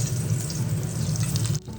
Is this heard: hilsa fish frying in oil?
yes